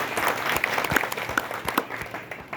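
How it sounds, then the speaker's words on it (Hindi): Audience applause for newly introduced members at a business network meeting, a dense patter of many hands clapping with a few sharper claps standing out, steady and fairly loud before easing toward the end. "एक बार जोरदार ताली बजाइए"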